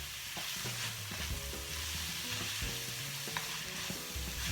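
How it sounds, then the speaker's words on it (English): Pre-cooked mixed vegetables, peas, carrots and sweet corn, sizzle in a hot pan as they are stirred, with scraping clatters and a continuous moderate frying hiss and no talking. "we are going ahead and add our mixed vegetables"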